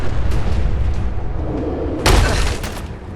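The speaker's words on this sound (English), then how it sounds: "explosions look really good for a decade-old game" Fat Boy mini nuke explosions in the video game Fallout 4 produce a loud, rumbling boom that swells into a bright, sharp blast about two seconds in, then tails off into a sustained roar.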